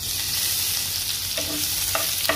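Garlic fries in cooking oil in a pan while being stirred. A continuous close sizzle is heard, with a few scraping stir strokes near the end and no talking.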